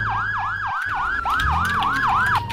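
A wailing emergency vehicle siren in the Roblox game Firestone DHS Patrol cycles in a steady, rapid whoop pattern, loud and close over low engine rumble. It breaks off briefly, then resumes with the same repeating rise and fall.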